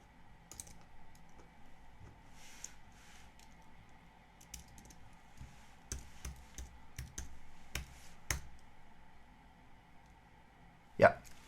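Someone types on a computer keyboard in quiet bursts of soft clicks, with scattered louder keystrokes and a sharp knock near the end.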